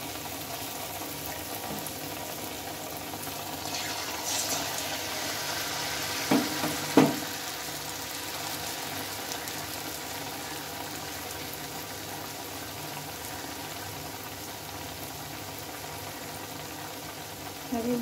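Carrot snacks frying in hot oil give a steady, dense sizzle throughout, close and even, with a couple of brief clinks and stirs partway through and no talking.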